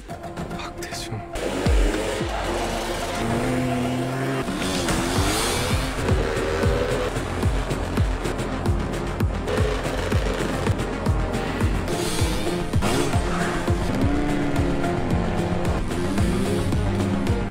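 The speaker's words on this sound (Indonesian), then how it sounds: "Drone hancur dan Taejung memacu motornya" Loud, continuous engine roar of a dirt bike racing, revving up and down with sliding pitch, over busy background sound and occasional voices.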